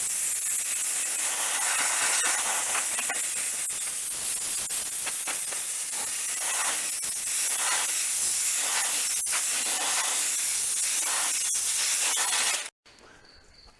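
An air compressor wand blasts debris out of the coolers and radiator on an LS XG3140H tractor, a loud, continuous hiss with small flutters that runs steadily for about twelve seconds and then cuts off abruptly.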